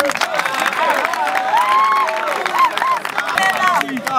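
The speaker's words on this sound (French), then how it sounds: "Applaudissons pour lui." An audience claps and cheers at a youth football recruitment event, with lively voices, shouts and babble mixed over the clapping throughout.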